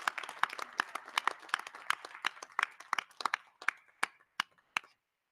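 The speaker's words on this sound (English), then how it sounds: "So let's give all of our students, as part of our spotlight, a round of applause." A small audience at a school board meeting claps for students, distinct sharp hand claps from a few people in a quiet room that thin out to scattered single claps and stop.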